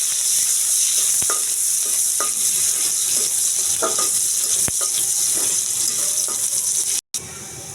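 Chopped garlic and onion fry in hot oil for potato dal, giving a steady, close, loud sizzle. Occasional clicks and scrapes of stirring come through, and the sizzle is briefly cut off near the end.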